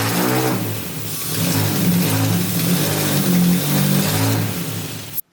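Honda Civic Nouva with a K24 engine on a mechanical throttle body revving with its RPM hanging, a steady loud engine drone with rising and falling harmonics, close and sustained, cutting off abruptly at the end.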